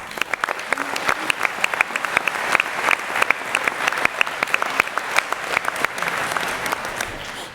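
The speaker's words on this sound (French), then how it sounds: "vous pouvez l'applaudir également." Sustained applause from an audience at a New Year's wishes ceremony, a dense, even wash of many hands clapping continuously at moderate volume.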